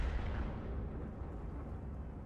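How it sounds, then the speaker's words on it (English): Artillery shell from an M53/M55 self-propelled gun striking a tank in a video game: a faint, low, rumbling blast that holds as a sustained broadband roar for a couple of seconds without a sharp attack. "Now he gets hit by the M53, M55, the fastest high-tier artillery in the game."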